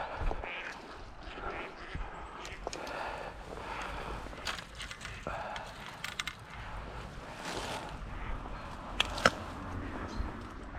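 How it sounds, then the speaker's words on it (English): Ducks quacking beside the River Lochy on a morning walk to a salmon fishing spot, scattered calls over a steady background of flowing water and outdoor ambience, moderately near with a few sharper bursts toward the end. "All the ducks."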